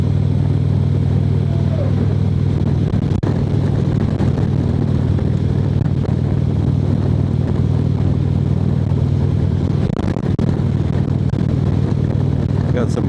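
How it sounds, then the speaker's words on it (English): Loud low engine drone and rushing wind noise from a moving motorcycle, with bursts of turbulence as large tractor trailers pass close by. "got some turbulence there from the big tractor trailers"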